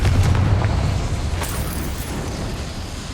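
A Confringo fire spell explodes in the game Hogwarts Legacy: a loud, deep boom at the start that rumbles and slowly fades over a few seconds, with a faint crackle after.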